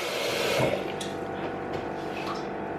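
Water running from a tap into a cooking pot, a steady close gush with a bubbling fill and faint splashes, without talk.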